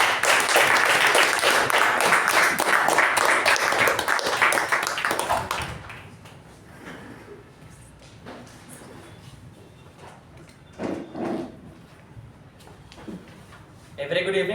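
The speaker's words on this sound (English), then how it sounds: "With a huge round of applause, let's welcome our President," A Toastmasters meeting audience gives dense, loud applause welcoming the club president, which stops abruptly after about six seconds and gives way to quiet room noise, soft shuffles and scattered knocks.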